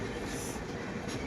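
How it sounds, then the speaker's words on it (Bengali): A train pulling into New Mal station in the Dooars, a continuous close rumble of carriages and wheels on rails filling the space without pause. "আমাদের ট্রেন এখন নিউ মালে ঢুকেছে"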